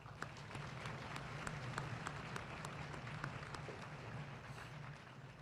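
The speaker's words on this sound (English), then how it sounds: "Please join me in a round of applause for my cadre." Graduation ceremony audience of an Army battalion applauding, a steady wash of many hands clapping at moderate level across the whole stretch, sounding slightly distant and roomy.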